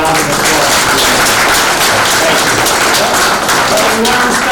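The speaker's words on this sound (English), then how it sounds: "Round of applause" Audience applause after a work-in-progress presentation on Old Tower Hill Road, a loud, dense wash of clapping filling the whole stretch without a break.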